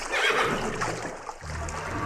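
A horse neighs in a narrated Thai folk tale about a royal horse at a bathing spot, a loud, close whinny at the start that trails off, followed by low snorting sounds.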